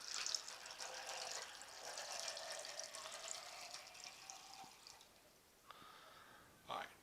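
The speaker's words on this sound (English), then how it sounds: "2 cups of water, and we're just going to pour it on in there." Two cups of water poured into a bowl of brisket injection mix, a soft steady stream trickling and splashing quietly, then a few faint drips and light clinks.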